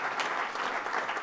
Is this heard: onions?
no